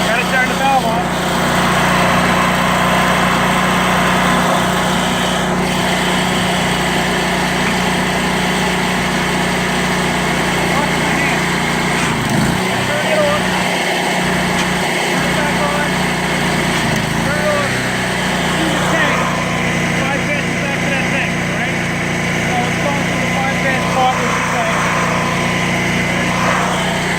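A gas pressure washer engine runs fast at a steady high-revving drone, loud and close throughout, with a slight dip in the middle as the valve changes load; a person talks briefly over it.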